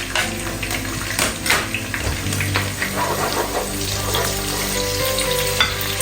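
Paprika and onions for a pork and vegetable dish being stirred in a pan, a steady loud sizzle of frying with scraping stir strokes throughout, close up and with no talking.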